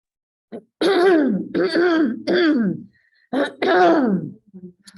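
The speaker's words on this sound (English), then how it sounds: "all I did was choke and clear my throat" A person clears their throat and chokes in a series of loud, close, rasping bursts, about five in quick succession with short pauses, on an online group call.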